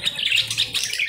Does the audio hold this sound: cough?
no